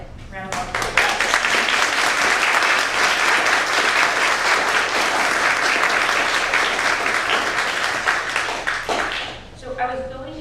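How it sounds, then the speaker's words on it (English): Loud, sustained applause from a room full of people after a presentation, steady for several seconds before fading, with a voice briefly at the end. "round of applause"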